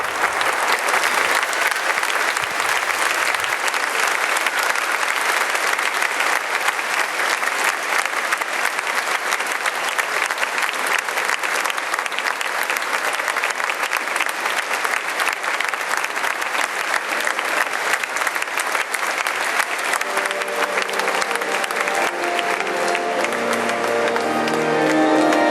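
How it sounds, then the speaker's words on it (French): A large congregation applauds at the close of a beatification mass in Marseille, sustained, thick clapping that holds steady for the full length, with a sustained tone entering near the end. "qui sollicite les applaudissements donc, de l'Assemblée au terme de cette messe de béatification"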